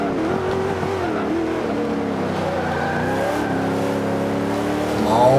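Race car engine at Le Mans in Forza Motorsport 5, a steady loud drone with rising and falling pitch as the car holds speed, an upward rev near the end, mixed with faint game background sound.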